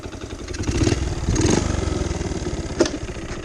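A 1972 Honda CT70H motorcycle, a small engine that smokes a little, idling up close with a rapid, even putter and mechanical clatter, one sharp knock near the end.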